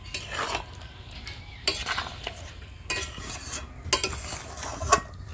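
Fried veg Manchurian balls being stirred into thick gravy in a pan, with repeated close scraping and clinking of a spoon against the pan over a faint sizzle, no talk.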